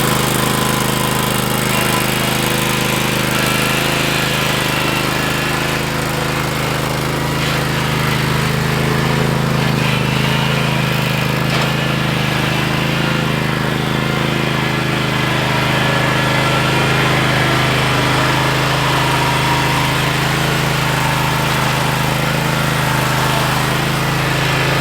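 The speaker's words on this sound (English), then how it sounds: "After unloading this awesome looking mower, he gave me a full walk around overview of the machine" A lawn mower engine runs steadily and loud throughout while the machine is unloaded, with a constant droning hum and rattling vibration and no talk.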